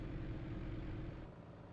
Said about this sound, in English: the idling of this isn't too bad now in this engine, because it sounds a bit more crackly